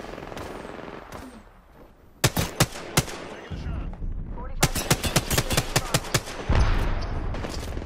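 Video-game gunfire crackles in sharp, loud bursts of rapid shots, with a couple of single cracks and then longer machine-gun strings, while a voice speaks briefly.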